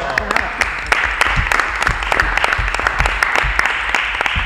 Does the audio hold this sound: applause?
yes